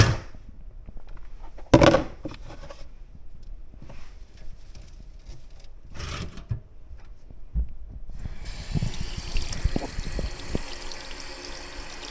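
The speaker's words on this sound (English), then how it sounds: "So we're going to get these rinsed up" Fireweed flowers get a rinse under running water, a splashing burst near the start and a steady pour and trickle building toward the end, with brief handling knocks in between.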